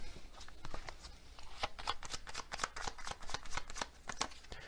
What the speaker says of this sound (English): Let's get another one of these Hermit Tarot cards.